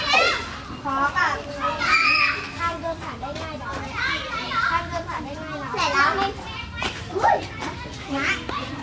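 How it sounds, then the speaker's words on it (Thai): Children running and playing on a wide green lawn at a camp, lively overlapping kids' shouts, squeals and chatter, near and continuous throughout. "เด็กๆวิ่งเล่นกันสนุกสนานมาก"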